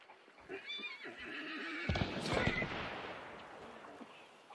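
A horse whinnies amid Hunt: Showdown game sounds, with hoof clatter and distant gunfire-like bangs in a busy background; faint voices murmur underneath.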